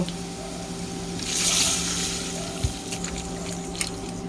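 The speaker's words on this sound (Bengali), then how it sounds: "এখন পরিমাণ মতো একটু পানি দিয়ে দেব।" Water poured into a hot frying pan of fried potatoes, onion and green chilli while cooking masoor dal, giving a brief close hiss and splash that settles into a soft sizzle and low kitchen hum.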